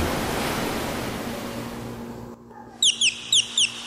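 Ocean waves near the shore at Infanta, Quezon, a broad steady surf wash that cuts off partway, followed by a few short, bright bird chirps in the quiet.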